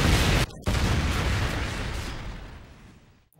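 Reaper drone kill streak exploding in a Call of Duty–style shooter, a loud close boom with a brief gap, then a long rumbling roar that slowly fades away.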